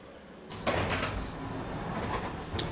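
Subway train doors sliding open in the Metro Simulator game on the Glasgow Subway, heard as a sudden rushing, hissing slide that is steady and close, with a brief clunk near the end.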